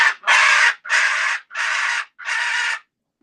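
Pet parrots squawk in five loud, harsh, close calls, each lasting about half a second, at an even rhythm with short gaps between them, with no other sound underneath.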